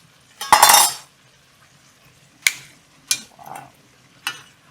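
A knife cracks through the middle of a raw alimasag crab's shell: one loud crunching snap, then a few shorter sharp clicks and taps close by, with quiet gaps between them.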